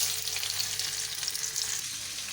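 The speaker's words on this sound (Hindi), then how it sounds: "हम मछली को हल्का हल्का सा सेक लेते हैं" Fish pieces sizzle lightly in hot oil in a pan for fish korma, a steady crackling hiss with small pops, close and continuous, with no voices.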